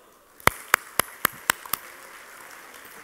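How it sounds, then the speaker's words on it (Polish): A few sharp, separate claps at a Polish food industry award ceremony, about six distinct slaps spaced evenly over two seconds, fairly close and clear, followed by a quiet room with no talk. "Wielkie brawa!"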